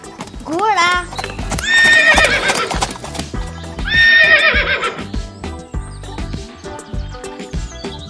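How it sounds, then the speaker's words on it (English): Several loud horse neighs and whinnies ring out close by, with hooves clip-clopping underneath. "Horse."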